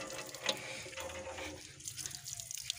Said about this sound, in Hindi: अरे ये तो पैर धो रही है